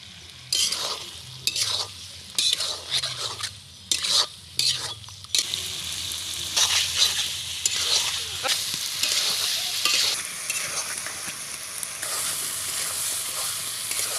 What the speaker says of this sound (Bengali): কষানো হয়ে গেছে মাংসটা